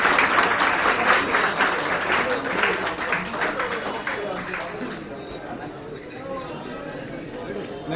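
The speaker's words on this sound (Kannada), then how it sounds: "ಚಪ್ಪಾಳೆ ಹೊಡಿರಪ್ಪ" Audience applause at a Bangalore tournament awards moment, a steady crowd clapping that starts strong and gradually thins out over several seconds, with some voices mixed in.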